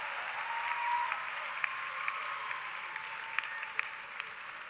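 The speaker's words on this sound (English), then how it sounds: "Let's applaud our College of Engineering and Information Technology graduates." A large audience applauds engineering and information technology graduates at a fall university commencement ceremony, a steady, dense wash of clapping with scattered sharper claps standing out, heard alone without talk.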